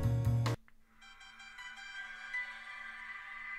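A T-Mobile Samsung Galaxy S2 plays its startup jingle at power-on, a short bright electronic melody with sustained chiming tones that ring on and fade gently, quiet and close, after a brief louder burst at the start.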